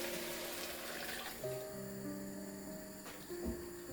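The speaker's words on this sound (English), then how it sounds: "Pour in the stock." Chicken stock pours steadily into a pot of ginger and chicken, a soft continuous liquid splash with gurgling tones, fairly quiet and close.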